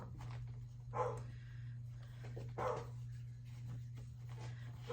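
A dog named Nola barks a few times indoors, muffled and somewhat distant, with soft single barks spaced a couple of seconds apart over a steady low electrical hum.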